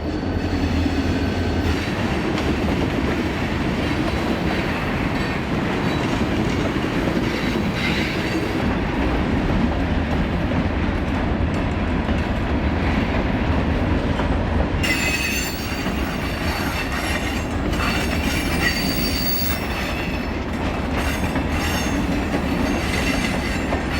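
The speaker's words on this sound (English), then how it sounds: "As the train rounds this curve, it will cross over the Yaquina River for the last time." A Portland & Western freight train rounding a tight curve near the Yaquina River, a steady loud rumble of rolling cars with persistent high wheel squeal throughout, no voices.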